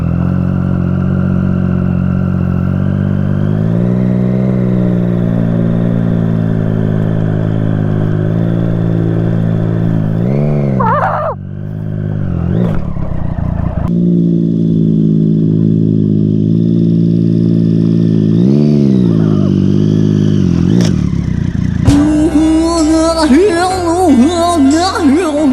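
A motorcycle engine revs and accelerates loudly up close, its droning pitch rising in several surges with brief drops between them, ending in rattling, clattering noise; some voices can be heard alongside.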